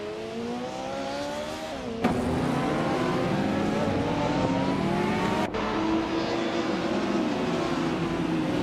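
Porsche 968 Turbo RS race cars in a racing video game drone past with steady engine notes, revs climbing and dipping as two sharp gear shifts break the sustained, loud roar.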